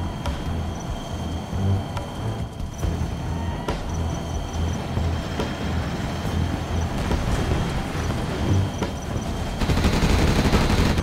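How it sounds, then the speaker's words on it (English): Continuous rapid, rumbling particle cannon fire in Command & Conquer: Generals Evolution, a dense barrage of blasts and mechanical roar that swells louder near the end. "Particle cannon activated."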